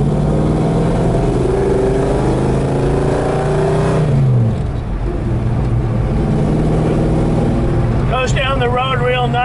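A 1967 Plymouth Barracuda engine hums and drones steadily from inside the car while driving, with a pitch dip around a gear shift midway and a rising note near the end, under someone talking throughout.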